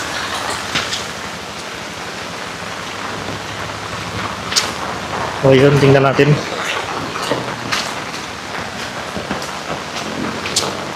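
Heavy rain pours steadily in Tuguegarao City during a typhoon, a loud continuous hiss with drops pattering on surfaces nearby while someone talks over it and a brief tonal beep sounds midway.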